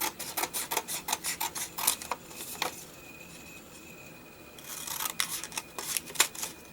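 Fabric material being cut down to size for a handmade journal: a close series of quick rasping snips and rubs in bursts, a quieter pause in the middle, then another run of sharp cutting strokes.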